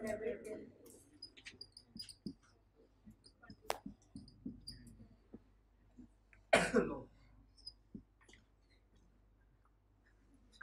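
One sharp, loud cough rings out in a quiet room, standing apart from scattered soft clicks and faint background murmur.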